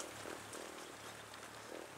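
Steady rain falls during a long hike on the GR 43 trail between Laubert and Le Giraldès, forming a continuous, even hiss of drops on surfaces, fairly quiet and unbroken, with no voices.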